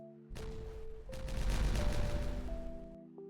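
Dynamite blasts going off in Timberborn, a rumbling burst of explosive booms that swells loud and holds for a couple of seconds before cutting off, with a steady game tone underneath and no talking.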